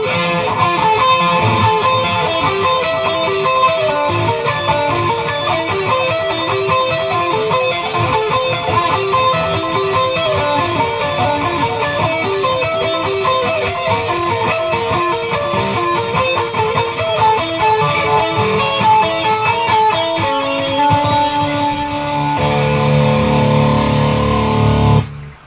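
Schecter Hellraiser Special electric guitar with EMG pickups playing a loud, sustained distorted lead solo over a full band mix, running continuously to the end, with a shift in texture near the close.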